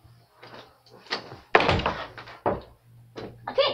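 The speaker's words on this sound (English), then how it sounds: "Let me close this door." A house door is shut with a single firm thunk, preceded and followed by faint bumps and handling sounds, with no talking.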